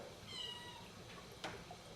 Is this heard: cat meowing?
yes